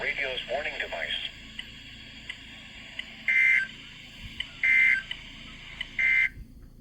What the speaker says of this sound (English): this is a test of the NOAA Weather Radio's warning device